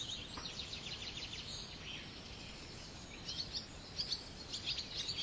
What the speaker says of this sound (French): aucun bruit, si ce ne sont les oiseaux, le chant des oiseaux